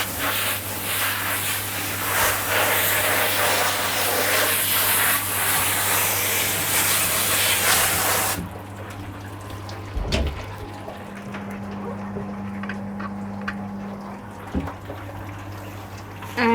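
Water spray hissing loudly and steadily as a dog named Odin is rinsed at a dog wash, then the flow cuts off, leaving quieter dripping and a few bumps and clunks.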